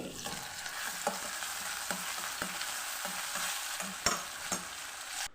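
Baby corn chilli with onion and dark soy sauce stir-frying in a pan, a steady broadband sizzle with periodic clacks of a spatula scraping and tossing, close and fairly loud, no voices.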